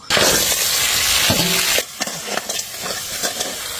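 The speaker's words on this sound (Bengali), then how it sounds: "জিরির কাঁকড়াগুলো হচ্ছে আমি ফ্রাই করে খাবো" Jiri crabs frying in a pan, a loud steady sizzle with stirring that suddenly drops to a quieter crackle and scattered pops, close and without talk.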